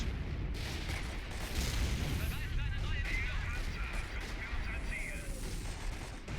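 Artillery shells land in a Company of Heroes 1v1 match, a steady barrage of dull booms and crackling impacts rolling on for several seconds while a commentator talks over them.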